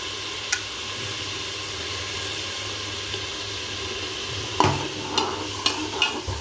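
Ground masala for chicken dum biryani fries in oil, making a soft, steady sizzle, with a few sharp scraping stirs of a spoon against the pan near the end.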